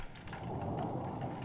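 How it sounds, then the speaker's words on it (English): Steady rain with a low rumble of thunder in the indie horror video game Vile Matter, a continuous dense wash that holds at an even level for the whole short stretch, with no voices. "Oh, it's raining."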